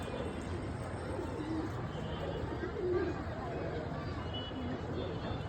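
A racing pigeon coos faintly a couple of times amid a constant murmur of background voices and outdoor noise.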